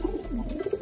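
A domestic high flyer pigeon gives a short, soft, low cooing, close and steady over a faint background hum.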